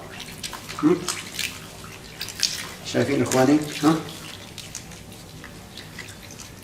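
Water runs over sheep tail fat with salt, splashing and swishing in bursts as the fat is worked by hand in a kitchen. A person speaks briefly over it.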